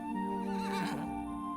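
A single horse whinny rises and wavers for about a second, closely miked over a steady droning hum that continues throughout.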